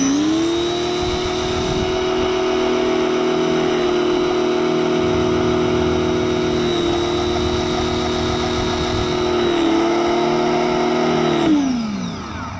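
A Greenworks Pro 1600 PSI electric pressure washer hums steadily up close with a loud, even motor whine, dipping briefly a couple of times before winding down at the end; no one speaks.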